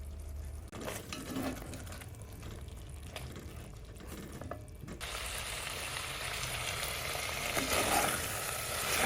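Sweet and sour beef cooking uncovered in a pan as its liquid reduces, a soft bubbling sizzle that grows louder and brighter halfway through, with occasional scraping stirs, close and alone.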